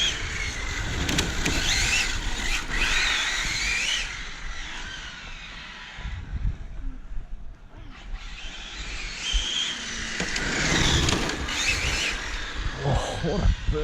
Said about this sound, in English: I'm gonna drift back this way